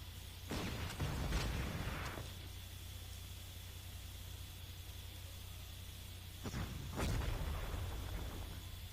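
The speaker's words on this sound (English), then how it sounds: "This artillery barrage is disgusting." Artillery barrage in the strategy game Panzer Corps: a few muffled booms arrive in two clusters, early and late, over a steady hiss of background noise.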